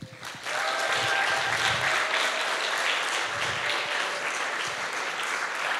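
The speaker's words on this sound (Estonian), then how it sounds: "me saame sooja aplausiga lavale kutsuda ka Kereni" A church congregation applauds warmly as a children's camp leader is welcomed onto the stage, the clapping starting abruptly and continuing as a dense, steady roar for several seconds.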